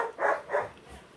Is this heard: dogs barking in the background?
yes